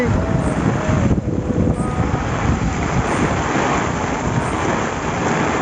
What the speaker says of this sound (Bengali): আপনারা দেখুন কত জোরে হাওয়া হচ্ছে, আর বৃষ্টি অনেক হচ্ছে জোরে।